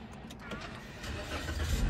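A 2017 Toyota Yaris G engine cranks and starts, a short rising mechanical rumble growing louder toward the end, close by with no talking.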